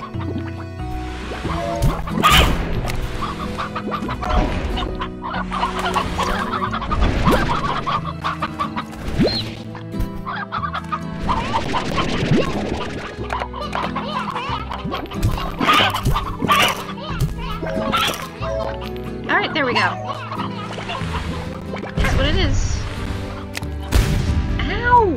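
Chickens cluck and squawk repeatedly in the Slime Rancher game, busy overlapping bursts spread across the whole stretch alongside bubbly, gurgling slime noises.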